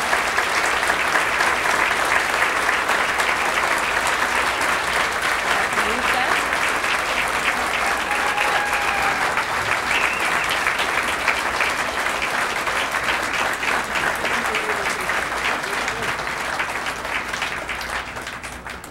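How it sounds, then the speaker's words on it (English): A hall full of guests at the CLS 2009 awards gives a long round of applause for an honoree, loud and dense at first and slowly thinning toward the end, with a few voices mixed in. "Let's give her a round of applause"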